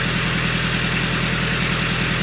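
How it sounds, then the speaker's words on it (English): A sailboat's marine engine idles steadily while warming up, a close, continuous low rhythmic thrum with mechanical vibration and no pauses or talk. "oil pressure is steady, and I'm just letting the engine come up to temperature a little bit so it gets a nice lubrication"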